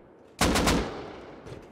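A rapid burst of AK rifle fire in the video game Rust, three or four sharp, loud shots in quick succession, followed by a fading echo and a faint thud.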